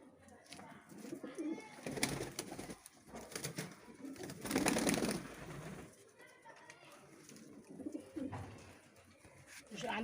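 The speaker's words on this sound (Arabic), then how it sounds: "الحمام بتاعنا معاكم اهو" Pigeons coo on a rooftop among other birds, soft throaty calls repeating close by while a person talks over them.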